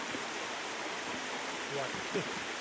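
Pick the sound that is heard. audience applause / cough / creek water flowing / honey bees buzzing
creek water flowing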